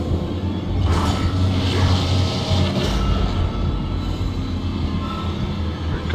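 Dead Space's tram system grinds and rumbles into motion with mechanical whooshes and a low rail-like hum, a loud continuous machine sound with no talking.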